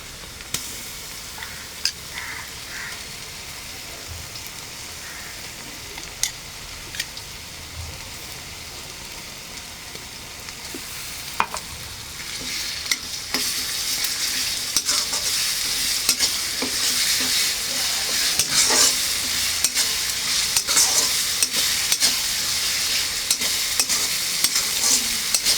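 Onions fry in a pan with ginger, garlic and green chili paste, a continuous sizzle with scraping stirs and clinks that grow louder and busier halfway through.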